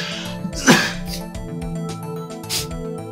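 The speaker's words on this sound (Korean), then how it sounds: "재채기" A single sharp sneeze bursts out early, close and fairly loud, over a steady tonal background hum, followed by a couple of fainter breathy sounds.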